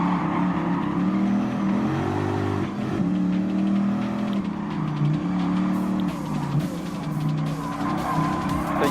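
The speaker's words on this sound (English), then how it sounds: "There's the Porsche 911 GT3 RS are trying to catch up to the Mitsubishi Lancer." In Gran Turismo Sport, a Porsche 911 GT3 RS chases a Mitsubishi Lancer in a custom race, their engines droning loud and steady while revving up and down, with tire squeal mixed in.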